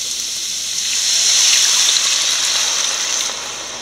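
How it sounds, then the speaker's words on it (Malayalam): Coconut milk is poured into an egg curry simmering with coriander powder and garam masala, giving a steady, fairly loud hissing pour that swells midway and then eases off, with no talking. "തേങ്ങാപ്പാൽ ഒഴിക്കാം."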